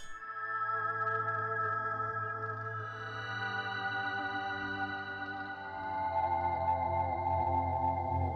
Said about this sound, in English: once you add the pinched harmonics back into it, then you get the whole effect